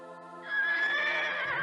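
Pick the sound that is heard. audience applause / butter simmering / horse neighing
horse neighing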